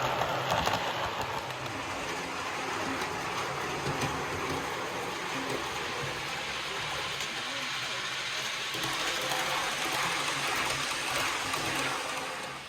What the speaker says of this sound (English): 2 trains running now, so the loops are in position.